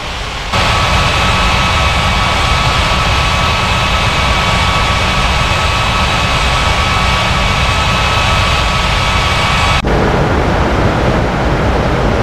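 Steady, loud jet engine roar of an airliner on its takeoff run in a virtual plane-spotting simulation at Milan, holding constant for about ten seconds before cutting off abruptly.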